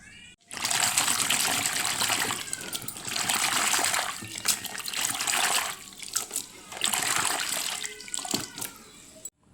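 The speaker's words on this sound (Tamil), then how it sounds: "கேரட் பீன்ஸை நல்லா வாஷ் பண்ணிக்கலாம்." Carrots and beans washed under running kitchen water, a loud continuous gush and splash in several long bursts with brief pauses and small clatters between, with no talking.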